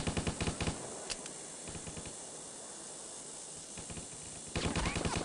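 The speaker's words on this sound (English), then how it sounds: "Somebody's shooting Stubbs too." Rapid bursts of automatic gunfire from Stubbs the Zombie, loud clattering volleys at the start and again at the end, with a quieter hissing stretch between.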